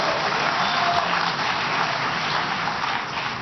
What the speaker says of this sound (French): Je ne suis pas sûr que le concert des applaudissements soit tout à fait unanime sur ce point